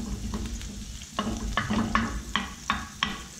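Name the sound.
stirring butter into lobster scampi pan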